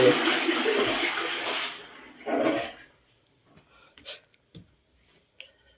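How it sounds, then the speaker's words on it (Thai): A toilet flushes during a power outage at a dark rubber plantation: a loud rushing gush of water for almost three seconds, then quiet with a few faint drips and small clicks. "ห้องน้ำยังไหลอยู่นะครับผม ถึงแม้จะไฟไม่มา"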